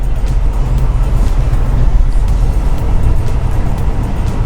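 An all-new Mitsubishi Triton pickup running in fourth gear, heard from inside as a loud, continuous low engine drone and rumble of road noise.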